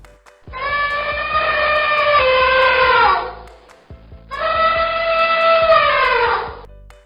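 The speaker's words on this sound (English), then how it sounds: "Elephant." An elephant trumpets twice, each blast a loud, close, brassy call about three seconds long that falls slightly in pitch, with a short gap between them.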